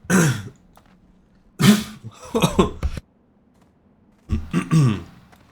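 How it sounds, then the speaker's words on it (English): Three bursts of coughing and throat clearing picked up close on a microphone, each short and harsh with quiet gaps between, no talk over them. "Cough, I missed the cough cover on the mic there."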